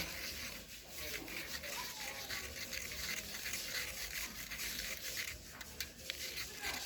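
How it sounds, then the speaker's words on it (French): Kojic powder and baking soda being stirred together for a face mask, a steady soft scraping and rubbing of a spoon in a small bowl, close and continuous, with quiet talk over it. "on fait bien le mélange, on mélange bien"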